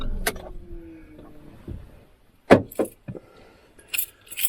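Keys jangle and click close by as a car, a converted minivan camper, is switched off; scattered metallic jingles and sharp taps come in short bursts over a quiet interior.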